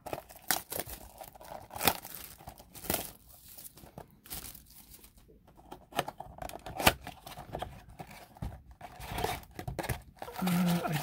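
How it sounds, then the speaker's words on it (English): Scissors snip and slice through the plastic wrapping on a 2020 Topps Chrome blaster box of baseball cards, with several crinkling, tearing bursts spread across the stretch and a louder rustle near the end, no talking. "I'm going to use my trusty old pair of scissors."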